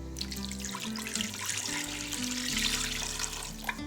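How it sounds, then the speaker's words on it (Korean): Water poured from a tap into a pot holding blood-drained oxtail, a close, steady splashing stream with shifting gurgling tones as the pot fills. "핏물을 뺀 속꼬리를 냄비에 담고 속꼬리가 잠기도록 물을 부어줍니다."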